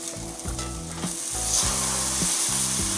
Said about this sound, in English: Frying pan's nice and hot, let's get that grilled cheese on.